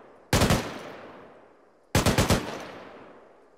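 An M240 machine gun fires in the video game Arma 3: two loud, close bursts of about five rapid rounds each, separated by a pause of over a second and alone without talk.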